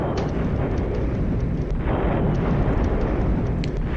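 Continuous heavy artillery barrage rumbles through a city battle in the video game Brüder Gegen Brüder, a dense, loud wash of overlapping booms with no clear gaps.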